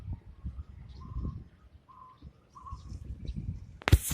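A rare white turtle dove calls in the wild with three soft, evenly spaced coos, moderately near, over low rustling background noise and a brief sharp knock at the end.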